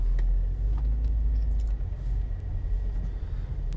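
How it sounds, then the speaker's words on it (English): A Mercedes-Benz car pulls in and parks at a dealership service center, a low engine rumble close by with light tire and movement noises. "I'm gonna park my car right here."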